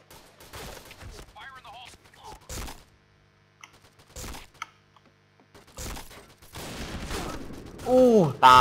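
Bursts of rapid gunfire in the PointBlank shooter game, several short sharp volleys spaced through the stretch, mixed with game effects and someone talking over them.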